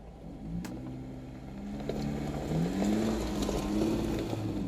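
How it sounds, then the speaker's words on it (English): An off-road vehicle crawling in low range first gear along a desert canyon trail around Dedeckera Canyon and Steel Pass, its engine droning quietly and slowly climbing in pitch, with a single sharp knock early on. "going to keep the music off and listen to the sounds of the road and the wheeling while we're going"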